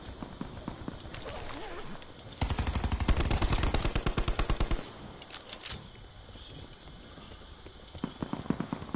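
Rapid bursts of gunfire in Call of Duty Blackout, a pistol among the shots: a dense, loud volley in the middle with scattered quicker shots before and after, crisp and close over game ambience.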